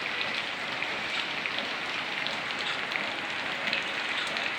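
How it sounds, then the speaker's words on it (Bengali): Steady rainfall pours down outdoors on a cold, waterlogged day, a dense even hiss of drops on surfaces that holds at one level from start to finish with no voices. "চমৎকার বৃষ্টি হচ্ছে, আজকে কোথাও যেতে পারিনি বৃষ্টিতে।"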